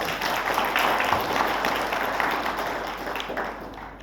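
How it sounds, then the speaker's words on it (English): Applause from the audience at a book launch, steady clapping from many hands that fills the room at full strength for a few seconds and then tapers off slightly. "So clap for her Kwanza for being an amazing editor."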